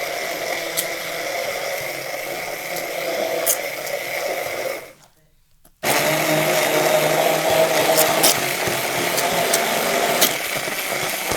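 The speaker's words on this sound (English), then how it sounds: "Blending them instead of just chopping them into fine pieces?" Blender running steadily as it purees vegetables for soup stock, a loud continuous motor whir that cuts out briefly and then starts again at full strength, with no talking over it.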